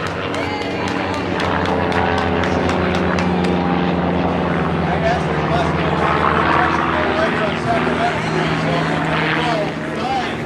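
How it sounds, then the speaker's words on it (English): An aircraft flies over a Corvette Fest in Lodi as a steady, loud engine and propeller roar that stays constant throughout, blended with crowd noise at an outdoor car show. "We're about to have a flyover"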